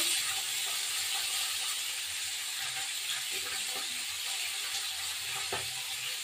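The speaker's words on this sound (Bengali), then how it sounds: "আলুটা দেবো এখন ভাজা।" Potatoes frying in a pan of oil make a continuous loud, even sizzle and hiss up close, with a faint clink or two underneath and no talk.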